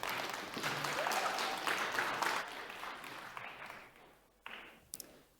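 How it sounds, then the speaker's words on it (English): A conference audience at a tech summit stage applauds a speaker, a full steady clatter of many hands that slowly thins and fades, ending in a few scattered last claps. "Please clap your hands for Adam Tillner-Smith."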